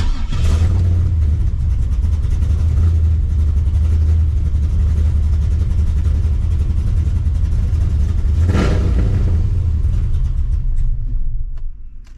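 A 408 LS3 big-cam engine, still cold and being tuned, roars steadily at close range with a deep, choppy rumble and a rev surge near the end before dropping away.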